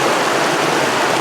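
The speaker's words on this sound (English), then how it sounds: "All right, second water crossing." Rushing mountain stream at a trail water crossing in the White Mountains, a steady, loud broadband wash of flowing water close by, with no speech.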